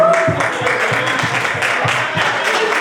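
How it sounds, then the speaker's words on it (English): Applause rings out at a youth basketball awards celebration for a 3rd and 4th grade team, a sustained, dense round of clapping from a crowd filling the room, with faint voices mixed underneath. "Devon, let's give him a round of applause"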